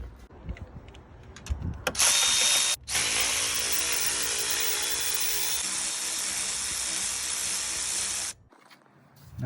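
A power tool works loose 14mm bracket bolts on a 2010 Subaru Outback during engine removal, a loud, close, continuous whir in two bursts with a brief break between them before it stops.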